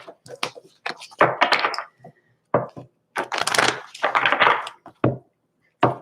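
A deck of tarot cards is shuffled by hand, giving a series of irregular papery riffles and soft thumps in short bursts with quiet gaps between them.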